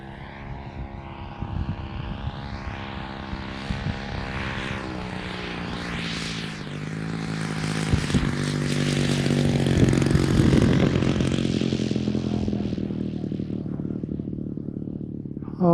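A Great Planes Extra 300S radio-controlled airplane in flight, its engine and propeller droning with a steady buzzing tone that shifts pitch as it passes and grows louder toward the middle, alone without voices.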